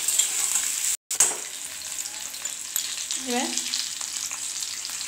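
Chopped garlic frying in a pan makes a close, continuous crackling sizzle that briefly cuts out for a moment near the start. A voice speaks a short word over it.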